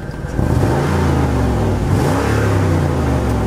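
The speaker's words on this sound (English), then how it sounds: "there is a slight exhaust blow" A car engine with a slight exhaust blow idles and revs in a loud, rough drone close by, with a low, uneven rumble from the exhaust throughout.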